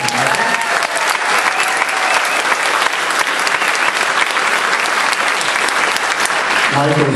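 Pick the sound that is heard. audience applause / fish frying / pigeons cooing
audience applause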